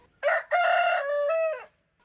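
A rooster crows once on a farm, a loud, close, drawn-out cock-a-doodle-doo with a short opening note followed by a long wavering call that trails off, alone in a quiet setting.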